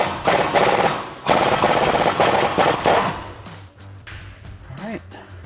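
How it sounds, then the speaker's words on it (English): A pneumatic impact gun with a swivel socket removes an 18mm nut while lowering springs are installed on a Dodge Challenger, loud rapid hammering bursts up close that stop partway, then clinks of handling, with no voices. "use a swivel socket on my impact gun"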